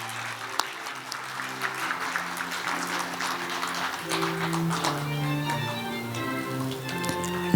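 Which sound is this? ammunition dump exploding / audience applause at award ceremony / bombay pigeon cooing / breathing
audience applause at award ceremony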